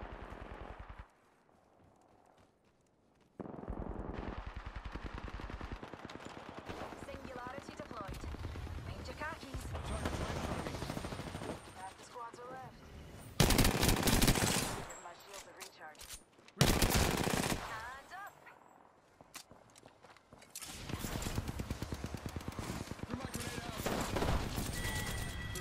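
Gunfire in the battle royale video game Apex Legends, with long rattling bursts of automatic fire and loud, close volleys coming in waves, separated by brief quiet spells. A player talks over parts of the fighting.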